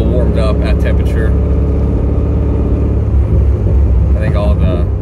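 A C5 Corvette Z06 with a high-flow cat runs with a loud, deep, steady rumble close by, and a voice talks briefly over it at the start and end.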